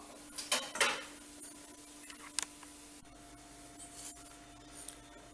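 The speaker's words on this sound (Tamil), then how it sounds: "அதனால் வேறு பாத்திரத்தில் இப்போ மாற்றிக்குவோம்." Sweet kolukattai dough being moved into another vessel: a few scraping, clinking knocks of utensil against metal pot early on, then quieter sporadic taps in a hushed kitchen.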